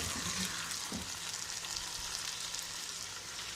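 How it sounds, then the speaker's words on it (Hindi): Potato, eggplant and onion fry together with tomatoes and spices in a pan, giving a dense, even sizzle that holds steady throughout, with a faint stir near the start. "मसाले डालने के बाद हम 5 मिनट फ्राई करेंगे"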